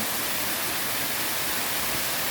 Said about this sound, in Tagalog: Yan po ang falls dito sa peak.